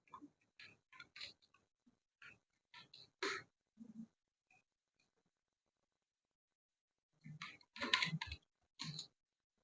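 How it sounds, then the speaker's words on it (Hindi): A computer keyboard clicks during a Hindi typing test, with bursts of quick, faint, close keystrokes separated by a long quiet pause. "इस तरह से वीडियो में क्या करेंगे, हम लोग टाइप करेंगे।"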